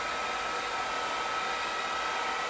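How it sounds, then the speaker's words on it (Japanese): Hair dryer blowing steadily at close range, a constant broadband whoosh with no pauses or voices. "本当にドライヤーかけるのめっちゃ上手くなってきたよね"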